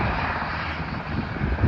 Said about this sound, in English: We don't know what this helicopter is doing.